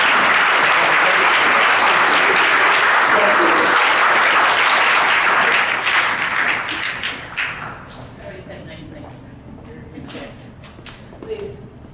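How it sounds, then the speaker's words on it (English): An audience at an event on campus antisemitism gives loud, sustained applause that fades after about six seconds into a few scattered claps and light rustling. "I might ask you to clap again"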